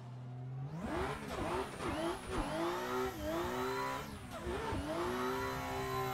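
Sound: BMW E92 drift car engine revving in a racing sim video game

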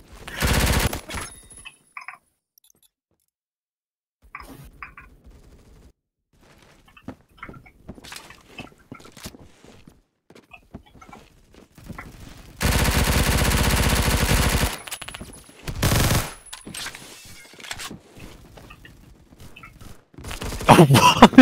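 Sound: gunfire from a shooter video game

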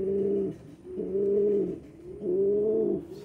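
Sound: pigeon cooing, male calling a female

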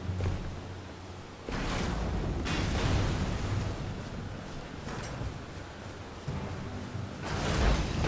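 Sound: cannon or bolt thrower firing in video game Elden Ring

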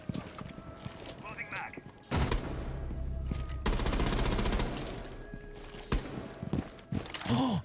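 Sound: gunfire from a weapon in the video game Rainbow Six Siege

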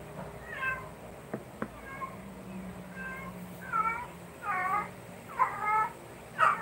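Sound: cat meowing

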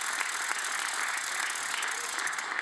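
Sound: audience applause for shooting finalists

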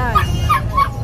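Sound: dog barking at a dog market

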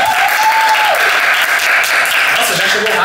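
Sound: applause

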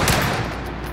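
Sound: gunfire from M1 Garand / AS44 gameplay, video game

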